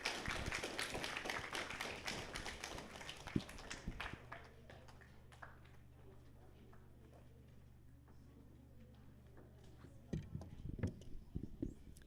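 Applause for a pupil at a primary school award ceremony, with dense clapping filling the hall for the first few seconds, then fading to quiet room tone before a brief burst of clapping returns near the end.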